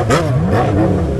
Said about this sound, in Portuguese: Ó a McLaren